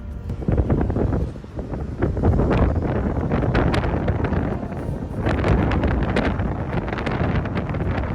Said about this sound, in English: the wind yanking the slide topper up